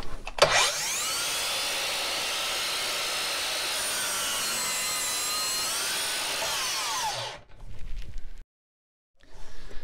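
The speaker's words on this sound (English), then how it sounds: "a bevel allows you to cut across here if you were doing 45s in a baseboard, just like this" A miter saw making a bevel cut through a wooden baseboard: the motor whines up loudly, the blade rasps steadily through the wood for several seconds, then the saw spins down and cuts off, followed by a brief further burst.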